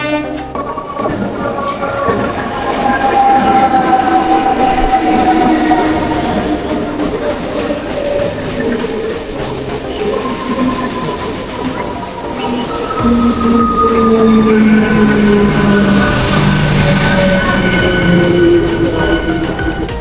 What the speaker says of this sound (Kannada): ನಮ್ಮ ಟ್ರೈನ್ ಬರತ್ತದ ನೋಡ್ರಿ